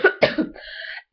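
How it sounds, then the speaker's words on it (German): Two short, close coughs in quick succession, followed by a brief voiced throat sound, with no talking. "Ein Husten."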